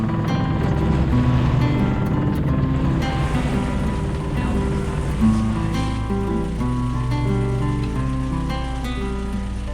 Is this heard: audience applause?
no